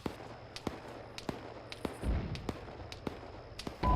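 Mortar and gunfire in the military shooter game ArmA 3, a run of sharp distant cracks and thumps at irregular spacing with a heavier low boom near the end, with no talking.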